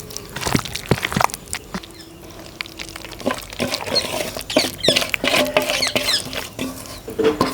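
Hands knead tomato pickle with tamarind, producing wet squelching, squishing and sticky popping sounds in irregular bursts, close and fairly loud.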